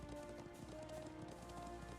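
Ridden mount's hooves in the video game Trails of Cold Steel IV, a quick running clip-clop under game music, faint and steady.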